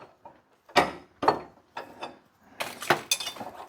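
Wrenches loosening parts on a small machine shop lathe: a series of sharp metallic clanks and ratcheting knocks, several distinct hits spaced irregularly, close and fairly loud.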